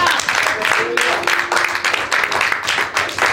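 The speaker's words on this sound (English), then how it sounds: "Clap for choir" A church congregation claps for the choir during a midweek service, brisk rhythmic clapping that rises and falls in waves, with voices calling out over it.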